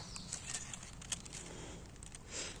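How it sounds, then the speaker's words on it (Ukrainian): Birds singing in a spring forest in Ukraine, faint scattered chirps and short calls at a distance over quiet outdoor ambience, with a soft rustle near the end. "Птахи співають, чуєте?"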